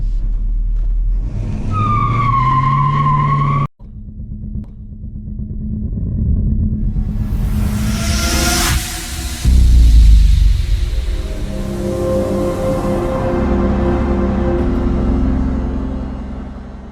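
A 1964 Chevrolet Malibu Chevelle classic car loudly revs, then drives off with a rising engine roar and a steady rumble that carries on to the end, heard close with no talk.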